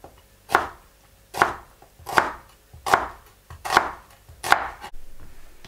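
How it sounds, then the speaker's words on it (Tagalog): An onion is cut with a knife, six firm, evenly spaced chops landing close on a board with short quiet gaps between them. "Ayan po, hiwa po tayong sibuyas."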